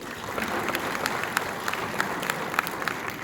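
Audience applause for the presenting sponsors at an introduction before a documentary screening, steady clapping from a room of people that continues without a break for several seconds, moderately loud, with no talking over it.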